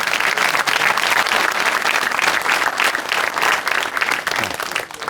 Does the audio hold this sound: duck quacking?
no